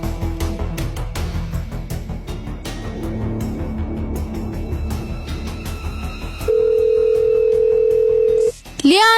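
A telephone tone, dialed on a borrowed phone, sounds as a steady, loud, unbroken tone for about two seconds, then cuts off abruptly. Other faint sounds come before it.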